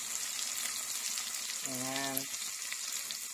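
Chopped onions for chicken curry soften and sizzle in a pan with a steady, close frying hiss that runs throughout, while a voice briefly speaks over it midway.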